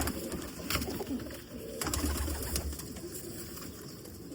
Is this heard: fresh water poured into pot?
no